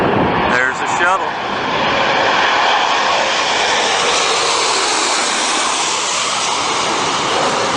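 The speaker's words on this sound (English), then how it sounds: "Take a look and take a listen to those jet engines." A space shuttle comes in to land with its jet engines roaring loud and steady throughout, a broad continuous rumble and hiss that never lets up.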